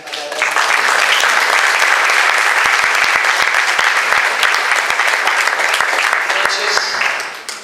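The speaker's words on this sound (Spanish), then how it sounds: "para que pida un aplauso" An audience at a literary awards ceremony in Junín bursts into loud, sustained applause, dense clapping holding steady throughout before tapering off sharply at the close, with some voices underneath.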